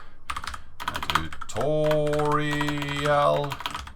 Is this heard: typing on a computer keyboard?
yes